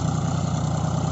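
A John Deere 5050D 4WD tractor engine running in a field, a steady low diesel chug with an even pulsing rhythm, close and continuous.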